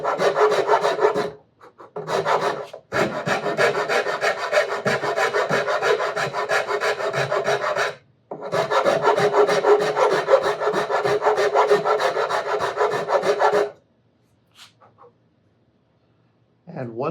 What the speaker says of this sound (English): And start carving.